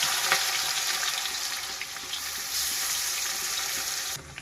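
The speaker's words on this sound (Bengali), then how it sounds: "মেখে রাখা চিকেনগুলো দিয়ে দিচ্ছি।" Loud, continuous sizzling as marinated chicken and whole spices hit hot oil in a wok, a bright steady hiss that cuts off abruptly near the end, with no talking.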